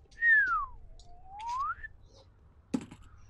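A tabletop player imitates a slide whistle by whistling: one close pitch glide falls, then climbs back up, followed by a short sharp knock.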